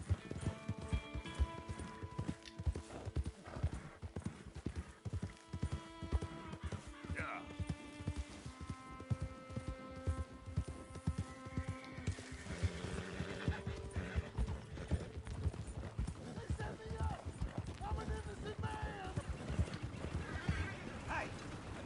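Horse hooves clip-clop in a steady quick rhythm along a trail in Red Dead Redemption 2, close and continuous beneath a melodic western score, with occasional talk.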